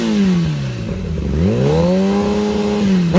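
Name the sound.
Kawasaki motorcycle engine revving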